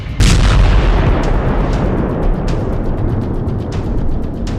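Explosions from a US military strike on an Iranian weapons depot in Syria at night rumble loud and continuous, with a heavy opening blast followed by repeated sharp bursts and booms.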